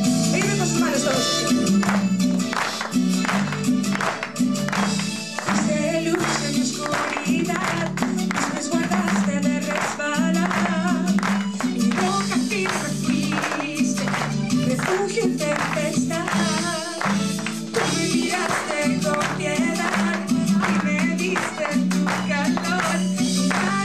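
During live singing, an audience claps steadily in rhythm over music, with the sharp, fast beat running the whole time.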